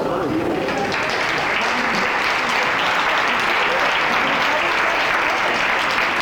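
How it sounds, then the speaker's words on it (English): A large audience at a business success-day event breaks into a huge round of applause, a loud, continuous wash of clapping that holds steady from start to finish. "Thank you for that huge round of applause"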